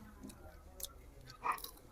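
Crunchy, loud chewing of fried food with whole-skin garlic cloves, a few brittle bites spread across the moment, close to the mouth, with no talk.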